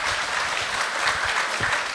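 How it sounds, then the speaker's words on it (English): Audience at a policy event on US support for Ukraine claps steadily, a dense continuous burst of applause close at hand with no voices over it. "So please give an applause, because this is one of our best friends."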